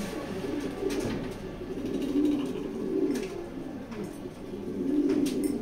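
A racing pigeon coos continuously in low, rolling phrases, close and fairly loud, with soft rustling and clicks in the background and no talk.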